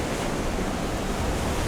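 Surf washes over a sandy west-coast beach as a steady, broad rush of water, fairly soft and continuous through the short stretch with no voices.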